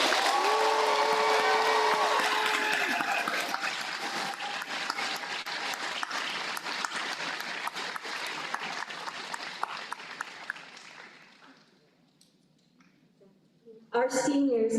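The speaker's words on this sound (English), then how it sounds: "As our graduates return to their seats, please give them another round of applause." Sustained applause from an audience at a high school graduation ceremony, loud and dense at first, then thinning and fading away, with a few voices rising near the end.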